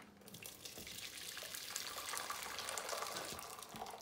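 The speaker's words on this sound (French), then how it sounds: "Donc je vais rajouter de l'eau bouillante." Boiling water is poured steadily into a saucepan, a soft continuous splashing and hiss that stays quiet and close throughout.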